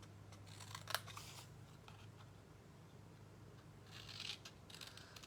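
Scissors snip through card stock in a few quiet, crisp cuts, one sharper snip early and a short cluster of cuts near the end, close and isolated.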